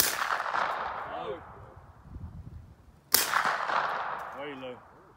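Two loud gunshots during outdoor target shooting, each a sharp crack followed by a long rolling echo, spaced about three seconds apart; brief distant voices are faintly heard between them.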